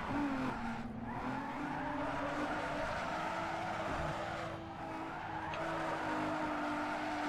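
Toyota Supra drifting in Need for Speed Underground 2, sustained tire squeal over a revving engine, loud and close, holding for several seconds with brief dips where the skid eases before it screeches again.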